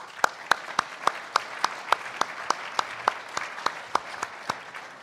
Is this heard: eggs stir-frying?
no